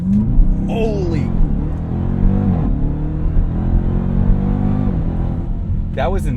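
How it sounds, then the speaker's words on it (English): A 2021 Dodge Durango Hellcat launches at full throttle using launch control, a loud, deep supercharged engine roar that holds and builds, with excited exclamations from inside the SUV. "You can hit this launch button right here. It says apply brake pressure. It's very simple. Apply full throttle. Release brake."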